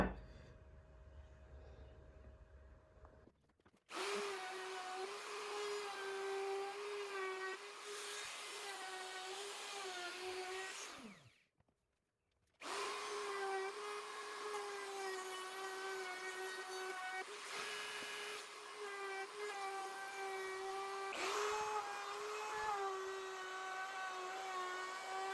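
A handheld router cuts a small 45-degree chamfer along the edges of a wooden Adirondack-style chair, a faint high whine running in two long passes with a brief stop between them.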